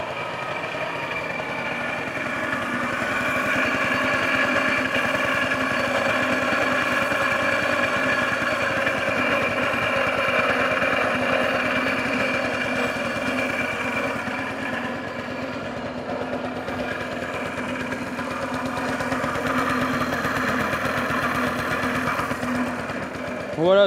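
A scooter engine with failed crankshaft bearings runs continuously nearby, a rough mechanical whine and rattle droning at a steady pitch throughout, with no speech over it.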